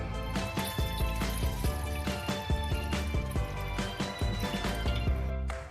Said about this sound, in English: Put water into a pan.